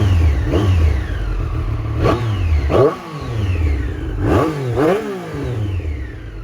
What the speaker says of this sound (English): even the tiniest little input of throttle will actually give you like a healthy blip